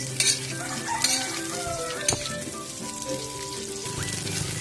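Kikiam sautés in a pan with a constant sizzle, broken by sharp scrapes and clanks as a utensil stirs against the metal.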